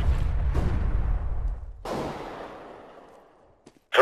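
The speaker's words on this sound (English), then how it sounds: "Flashbang." A flashbang grenade detonates in a video game: a loud, sharp burst, then a second bang that fades into a long decaying rumble and ends with a faint click.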